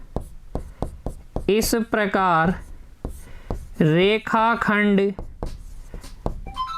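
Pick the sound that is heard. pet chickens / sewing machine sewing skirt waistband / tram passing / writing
writing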